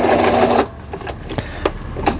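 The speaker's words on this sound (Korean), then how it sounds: "5번, 6번, 7번의 지그재그 바느질" A Toyota household sewing machine doing zigzag stitching: a loud, close mechanical whirr for about half a second, then stops, followed by a few quieter clicks and knocks.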